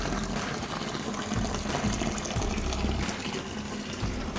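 A pump pushes carbon-filtered water through food-grade hoses into a brewing mash tun, a steady loud gushing fill with constant pump hum.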